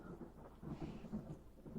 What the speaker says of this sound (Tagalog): ang lakas ng kulog at kidlat